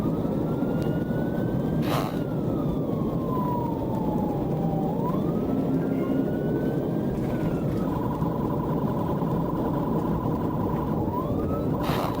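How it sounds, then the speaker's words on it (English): A police siren wails in steady rising and falling sweeps, then holds a level tone, over a constant loud roar of engine and road noise. "With emergency lights and sirens fully activated"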